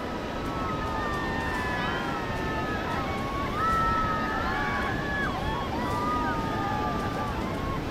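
A rafting boat rides down the Dandeli River amid a steady rush of churning water, with people talking and calling out over the constant roar.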